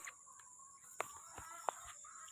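Faint, scattered chicken clucks and short calls in the distance over a steady background hiss, a few soft vocalizations spread across a couple of seconds.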